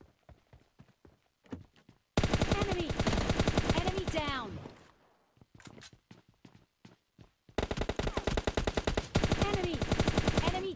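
Sustained bursts of machine gun fire in a solo-versus-squad battle royale shooter, loud and rapid, broken by a quieter stretch of scattered single shots and footsteps before another long automatic volley.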